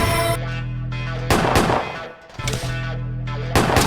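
Combat shotgun blasts in an indie first-person shooter game: two heavy booming shots with short echoing tails, each followed by a lower mechanical rumble, loud and close, with no talk.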